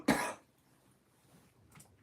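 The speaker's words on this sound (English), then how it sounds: "I have to cough and it's impending." A single sharp, close cough bursts out at the start, followed by near silence and a faint breathy sound afterward.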